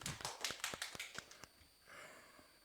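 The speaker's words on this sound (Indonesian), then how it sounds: "Tepuk tangan untuk kalian semua." Students in a classroom clap, a short burst of sharp, separate claps that fades out within about a second and a half, followed by quiet room tone.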